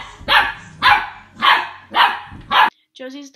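A fluffy puppy barks five times in a steady rhythm, loud and close, followed by a brief whine or yip at the end.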